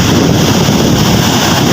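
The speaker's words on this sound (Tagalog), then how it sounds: "Yan po ang alon." Sea waves wash onto a trash-strewn beach, a loud continuous roar of surf heavily buffeted by wind rumble on the microphone.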